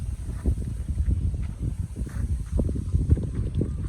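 Wind blowing across ripening rice fields in the Cambodian countryside, heard as a steady low rushing with gusty buffeting against the microphone, no voices.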